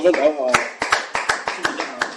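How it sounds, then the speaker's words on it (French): Scattered hand claps welcoming a speaker at a church gathering, a few distinct sharp claps spaced through the moment over a voice talking in the background. "Vous avez cet applaudissement maintenant, c'est pour l'accueillir."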